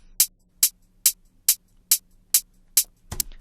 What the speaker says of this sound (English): So now the hats sound like this.